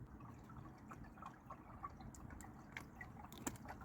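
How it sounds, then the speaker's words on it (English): A small stream trickles at night near a campsite, faint, soft drips and gentle liquid bubbling over a quiet background, with a few brief louder splashes and no talking. "when it's this quiet, you can actually hear the stream down there trickling."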